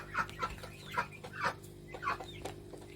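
Chickens in a coop give a series of short, close clucks at an uneven pace, about one every half second, over a quiet background hum.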